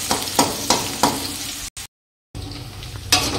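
Onions and dried chillies fry in hot oil in a pan, a close sizzle punctuated by rhythmic stirring scrapes, broken by a short moment of silence before the frying resumes.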